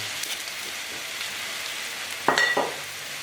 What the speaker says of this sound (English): I'm just going to really boil that down to intensify the flavour of the wine.